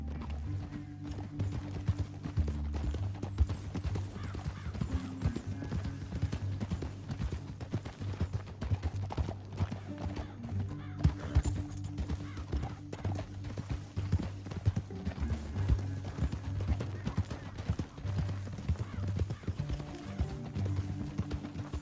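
Horse hooves clip-clop in a steady trotting rhythm throughout in the video game Red Dead Redemption 2, moderately close, with faint mechanical creaking and no talk.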